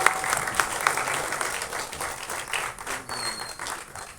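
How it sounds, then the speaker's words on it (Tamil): Steady, moderately loud audience applause at a film event's song screening, dense clapping from a crowd that continues throughout and fades slightly toward the end. "ஒரு பெரிய கைத்தட்டல் கொடுத்துடலாம்."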